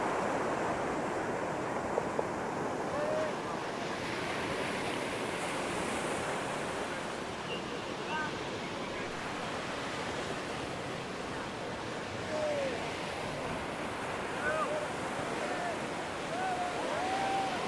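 Ocean waves break and wash continuously at Arugam Bay beach on Sri Lanka's east coast, a steady broadband surf roar with some wind buffeting, and faint voices of people nearby.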